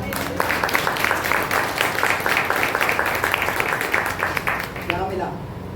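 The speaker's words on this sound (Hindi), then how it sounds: "क्या ताली बजा सकते हैं आप?" Congregation clapping during a Hindi Sunday church service, a dense patter of many hands that runs steadily for several seconds and then fades, with voices murmuring beneath it.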